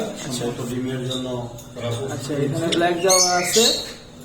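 Farm-kept birds give harsh, raspy squawks in several bursts, close by and mixed with people talking throughout.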